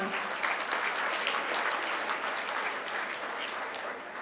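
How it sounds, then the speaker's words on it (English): An audience at a Greek community gathering in Montreal applauds in a dense, continuous wash of clapping that holds steady and loud throughout. "a round of applause, it's coming"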